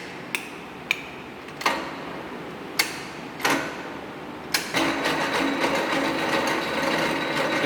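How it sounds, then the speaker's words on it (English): A radial drilling machine boring a through hole, with a few sharp metallic clicks of setup followed by a steady mechanical whir of the rotating spindle and drill bit close by. "You can see the rotation of the drill bit"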